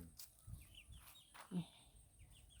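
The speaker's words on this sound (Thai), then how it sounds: "อันนี้ก็แมนบอกไก่ตีนะ" Fighting rooster clucking softly outdoors in a breezy farmyard, a few short low clucks and a faint distant crow-like call, with other birds and people talking nearby.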